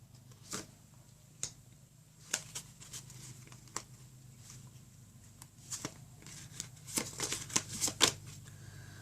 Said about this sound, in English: let's go ahead and get 9 cards for you